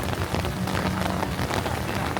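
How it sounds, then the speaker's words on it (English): Rain falls steadily at Disneyland, a dense even patter of drops on surfaces filling the whole moment with no voices. "Hearing rain is one of the coolest things ever."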